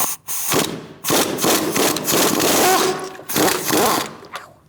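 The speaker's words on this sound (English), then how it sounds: "Now we're going to remove our bolts." A powered tool runs in loud buzzing bursts, pausing between them, while removing bolts from the transmission mount of a 2016-2019 Chevrolet Cruze 1.4L with an 18mm socket.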